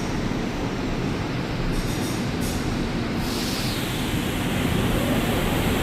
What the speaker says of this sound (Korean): 이제 드디어 성남행 열차가 도착했습니다.